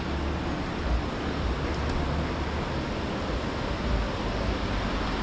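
At Bhagsu Nag waterfall, water pours down the hillside in a loud, unbroken rushing roar that fills the whole stretch, with no clear voices on top.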